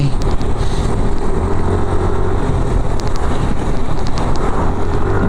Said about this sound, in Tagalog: Tuloy ng motor pagkapalusong talaga